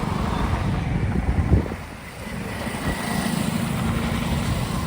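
Heavy highway traffic near Latur, with many vehicles passing, makes a continuous dense roar of engines and tyres that dips briefly as one vehicle goes by, then swells again.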